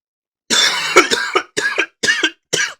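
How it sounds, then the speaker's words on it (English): A person coughs close by in five sharp bursts over about two seconds, with brief gaps between each. "Excuse me, I had a cough."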